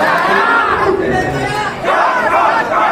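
A crowd at a regional-head campaign event chants rhythmic slogans for a candidate in loud, massed voices, with two swelling bursts of unison yelling and a short dip between them.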